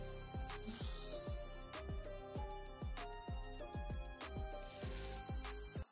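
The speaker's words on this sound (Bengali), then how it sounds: "নেড়েচেড়ে মশলার সাথে মিশিয়ে রান্না করছি 5 মিনিট।" Beef lung fries with spices in a pan and is stirred in quick, regular strokes that clack against the metal over a soft, steady sizzle. Fairly quiet and close, with no speech.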